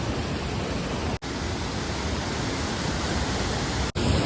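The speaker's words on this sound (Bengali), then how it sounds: "তো আপনারা এখন আমার পেছনে দেখছেন ভাট্টা ফলস" Bhatta Falls, a waterfall near Mussoorie, pours with a loud, unbroken rushing hiss of falling water, steady throughout apart from two brief dropouts.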